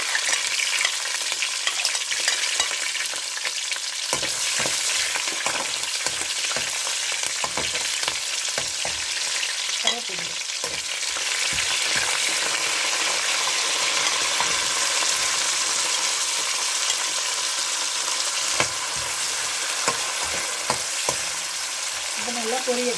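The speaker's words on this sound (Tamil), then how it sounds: "இப்போ நல்லா பொரியட்டும், நல்லா வதங்கணும்." Green chillies and garlic fry with fennel in hot oil, a constant loud sizzle with occasional stirring scrapes and bursts of crackle running throughout.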